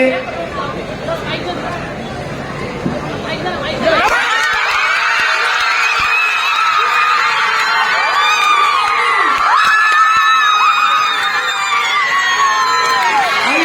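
A crowd at a Dahi Handi practice session erupts into loud cheering, whoops and children's shouts after a few seconds of chatter, the jubilant roar continuing thickly with voices mixed in.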